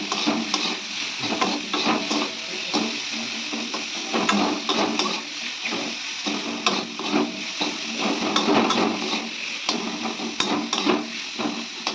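Green mango pieces frying in oil with mustard seeds and chili, a loud close sizzle broken by repeated scraping and stirring strokes of a spatula against the pan.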